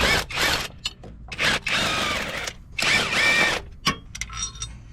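A power tool with a 17mm socket runs in short bursts to remove transmission bracket bolts on a 2009-2013 Mazda, with sharp whirring spurts separated by brief gaps and small clicks.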